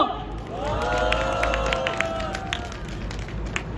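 Crowd applause at an outdoor labour union election rally, steady clapping and cheering at moderate distance over a low rumble, with a rising tonal wail and some voices mixed in.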